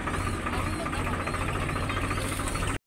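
A tractor engine works in a farm field, giving a loud, steady, continuous chugging drone that runs unbroken almost to the end before a brief cutoff.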